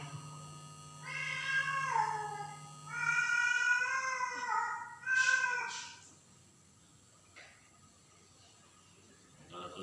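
A cat meows close by, two or three drawn-out, whining calls in the first six seconds, followed by quiet room background. No one talks.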